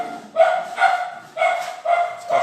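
Dogs barking at a house in Brazil, agitated by children passing outside: about five loud, close barks in a steady rhythm, with no talking over them.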